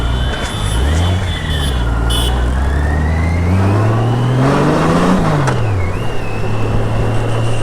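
Large shaft-drive motorcycle engine revving and pulling away, a loud, close engine note that climbs in pitch, drops, then climbs again as it accelerates, with a whining tone riding over it.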